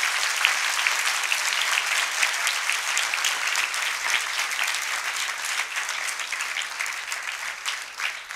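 A church congregation claps loudly and steadily through a Palm Sunday service at St. Paul's Catholic Church, the applause dense and sustained from start to finish with no pauses.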